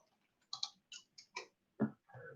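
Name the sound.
typing on a computer keyboard with one hand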